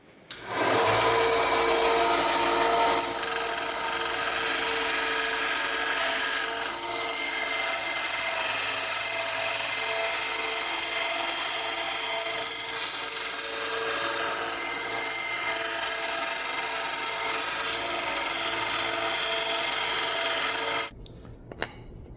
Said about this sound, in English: Alrighty, we're going to go here to the belt sander really quick.